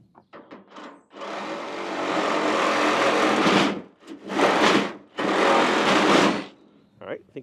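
An Eastonmade Ultra firewood processor's blade bites through logs in three loud, sustained bursts of harsh grinding, separated by brief pauses, with a few quieter mechanical clunks before and after.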